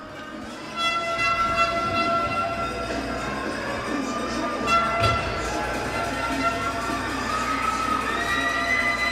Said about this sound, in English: I can tell you the crowd is excited.